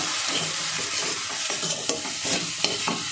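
Capsicum being stirred with spices and salt in a pan for capsicum kabiraji, with steady frying sizzle and repeated scraping spoon strokes, close up and with no talking.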